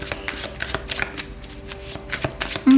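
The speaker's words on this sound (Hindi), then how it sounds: "शफल कर लेते हैं कार्ड्स को" Tarot cards being shuffled by hand, a quick sequence of close, crisp riffling and sliding flicks with soft papery taps, nearly free of talk.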